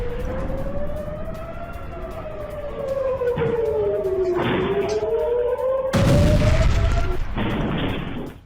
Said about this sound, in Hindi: किरियत शमोना में ही आधे घंटे में 2 बार बजा सायरन